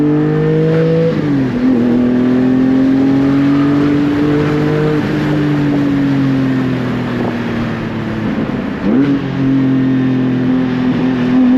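A Porsche Cayman GT4 engine pulls hard under acceleration while driving, a loud continuous rising drone with a few quick dips and climbs between gears, heard from inside the car.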